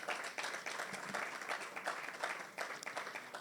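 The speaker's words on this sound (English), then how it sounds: "from the sound of your round of applause" An audience at a property developers forum applauds, with fairly quiet, continuous clapping made of many overlapping hand claps in a room.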